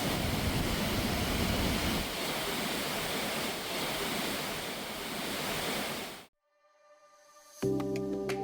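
Rushing water at a mill beside a frozen winter waterfall in upstate New York, a loud continuous roar for about six seconds, then an abrupt cut to near silence followed by a different tonal sound.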